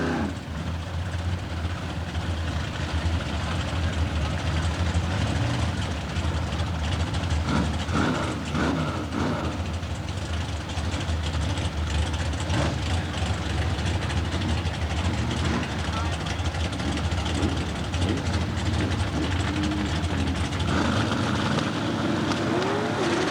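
Drag race cars launching at a dragway, among them a Chevrolet Corvette and a Phantom Roadster, make a sustained roar of engines that swells and fades while an announcer talks over it.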